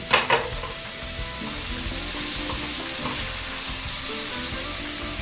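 Corn hitting a hot pan with green peppers, onions and garlic, raising a loud, even sizzle after a couple of sharp clatters at the start, holding steady throughout with no voices.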